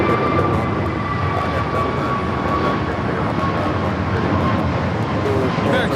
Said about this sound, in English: You have a UPS 767-300 freighter coming in from Louisville, Kentucky. About to land here